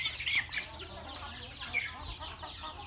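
Chickens cluck on a Thai chicken farm where many young birds are growing up among brush and trees, a soft, steady chatter of calls from a little distance.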